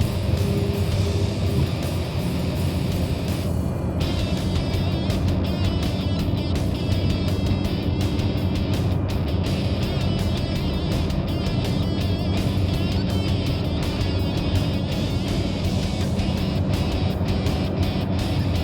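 A heavy jet airliner in a flight simulator game, cruising around 7,000 feet as the flaps extend through a second notch; a loud, steady engine and airflow roar with a brighter whine layered on top, no voices.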